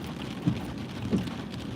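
Steady rain falling in the Smoky Mountains on an overcast day, a soft continuous wash of drops with a couple of slightly louder patters, no talking.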